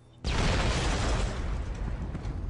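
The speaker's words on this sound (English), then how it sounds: "So this is the explosion that we're going to try to recreate." Car explosion effect for an indie film: a sudden loud blast that bursts in after a brief quiet moment, then a sustained roaring rumble that slowly fades, heard without any talk.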